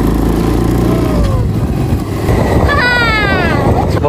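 A motorcycle carries riders around Fuxian Lake, its engine rumbling close and loud with rising and falling revs under rushing wind, while a voice speaks briefly over the ride.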